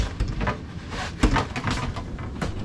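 A pocket door slides inside a motorhome with bunk beds, giving a run of close wooden knocks, rattles and rolling scrapes with a sharper thump partway through.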